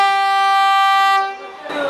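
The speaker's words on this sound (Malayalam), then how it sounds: "പാറ്റ്നയിൽ നിന്ന് കൽക്കട്ടയ്ക്ക് പോകുന്ന ഒരു വന്ദേ ഭാരത് ട്രെയിനാണ്." A Vande Bharat express train running from Patna to Kolkata sounds a long, loud, steady horn blast close by, which cuts off abruptly and gives way to rumbling noise.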